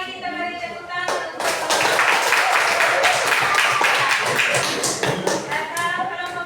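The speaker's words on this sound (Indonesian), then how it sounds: "Sekali lagi kita beri tepuk tangan" Classroom audience of teachers and students clapping together during a group discussion session, starting after a brief voice and swelling into a loud, busy patter of hands before tapering, with a few sharp individual claps near the end.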